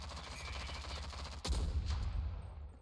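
A sniper rifle fires in the shooter game Rogue Company, one sharp loud crack partway through that rings out over steady game background noise, followed by a rumbling tail and a fainter shot after it.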